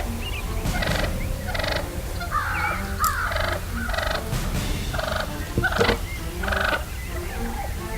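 A wild turkey hen calls near the timber edge with a run of short, close clucks and yelps at a steady, broken rhythm, over a soft outdoor background.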